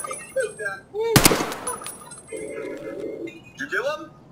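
Gunfire in the Escape From Tarkov video game: a single loud, sharp shot bursts out near the middle, with a smaller crack near the end, amid faint game ambience and tonal bird-like calls.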